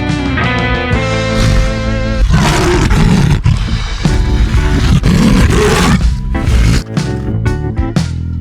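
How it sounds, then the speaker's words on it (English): A lion roars loudly and close, a long, powerful run of deep roaring with rough, grating edges and short breaks, over a musical backing. "L is for lion."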